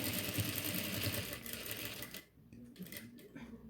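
Sewing machine stitching lace onto the yoke neck of a nighty, a fast continuous mechanical whir for about two seconds, then quieter stop-start stitching bursts, close up and fairly soft.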